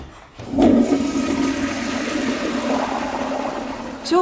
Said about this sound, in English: now flush.